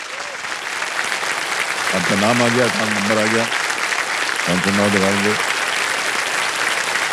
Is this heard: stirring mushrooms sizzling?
no